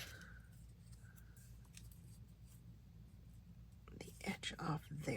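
Scissors cut the edge off a piece of paper in a close, quiet setting, giving a few crisp snips near the end after soft whispering.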